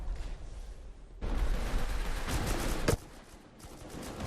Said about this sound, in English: that is a lot of grenade launchers